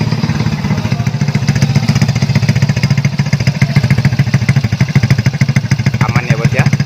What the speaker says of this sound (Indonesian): kita akan coba hidupkan motornya